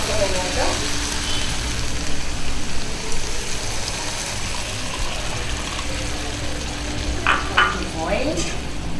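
Chicken and tomato gravy sizzling and frying in a pan while being stirred, a steady close hiss with a few scraping stirs toward the end.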